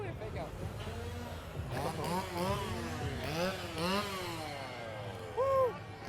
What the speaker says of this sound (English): So this scare zone is nothing but a chainsaw horde.